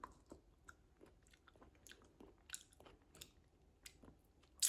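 Someone chews and bites into a home-cured black olive, giving soft, faint, close-up squishy crunches in an irregular rhythm, with no talking.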